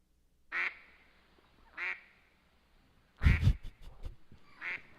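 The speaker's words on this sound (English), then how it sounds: "I have duck on a pond." Several separate quacks from a duck on a pond, spaced out over a few seconds and fairly close, with a louder burst of splashy noise in the middle.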